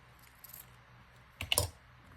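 A brief snip of scissors cutting a piece of card or paper down shorter for a dragonfly-themed artist trading card, one quick crisp cut standing out against a quiet room.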